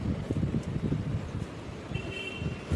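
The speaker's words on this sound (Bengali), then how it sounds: "আজকে সারাদিনই এমন বাতাস চলতেছে" Wind blows outdoors at dusk near a pigeon loft, a low, steady rumble of gusts buffeting the microphone, with a faint tone briefly audible in the background.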